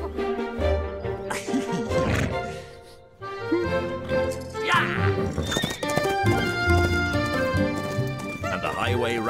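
In a cartoon, the highway rat rides a horse with clip-clopping hooves and whinnies, set over a loud, busy musical score with a voice narrating.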